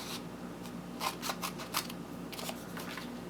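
Scissors snip loosely through printed photos for a Christmas ball ornament, making several quick crisp cuts in short bursts at close range in a quiet room.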